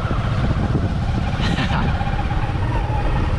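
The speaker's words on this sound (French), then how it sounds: "je vais essayer d'aller en haut avec la moto" Motorcycle riding on a sandy dirt path to a beach in Baja California, Mexico, with a loud continuous engine drone and wind roar close up, steady throughout.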